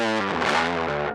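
A short, buzzy note from the Yonac Roxsyn synthesizer app with harsh, gritty distortion holds for about a second and then cuts off abruptly.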